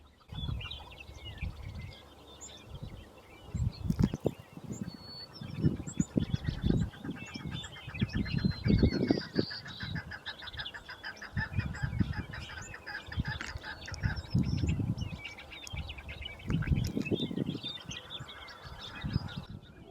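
A flock of chukars on a rock calls continuously, with dense, overlapping clucking and chattering notes that rise and fall in loudness throughout, close and fairly loud.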